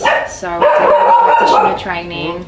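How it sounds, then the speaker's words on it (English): A pet dog named Lucky barks and yips in short bursts close by, overlapping someone talking steadily. "It's my dog. That's my dog,"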